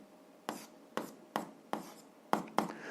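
Pen or marker writing a physics formula for a grade 7 lesson, six distinct scratchy strokes spaced roughly half a second apart, close and fairly quiet with no speech.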